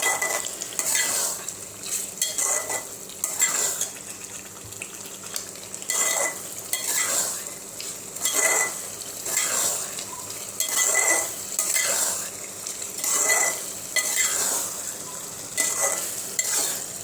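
Mutton keema with kasuri methi is stirred in a pan, a spoon scraping and clinking against the metal in regular bursts over a soft sizzle, close and fairly loud.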